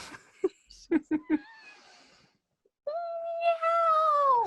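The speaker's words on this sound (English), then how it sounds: "roommate's cat." A house cat makes a few short vocal bursts early on, then after a pause lets out a long, loud drawn-out meow with a falling pitch at the end, close to the microphone.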